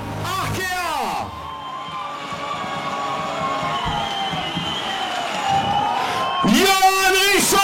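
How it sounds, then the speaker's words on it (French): A dockside crowd cheers and whoops for sailor Yoann Richomme of the Paprec Arkéa boat finishing the Vendée Globe 2024, a continuous roar under a loud announcer's amplified voice that rises again near the end. "un bon applaudissement pour Johan Richaud"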